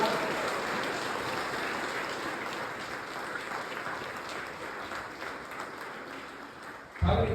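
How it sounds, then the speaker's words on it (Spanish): A church congregation claps together in a steady, dense round of applause during a Sunday morning service, with a sharp louder burst right at the end. "Así que den un aplauso a Dios otra vez."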